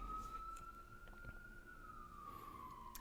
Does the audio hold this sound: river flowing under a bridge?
no